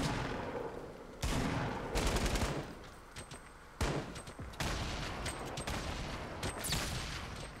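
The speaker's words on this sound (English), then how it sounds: "that grenade came awfully close to doing some damage" Gunfire bursts and a grenade blast in a Fortnite Battle Royale tournament match: several loud, close volleys of shots spaced a second or so apart, with sharp impacts and clattering between them.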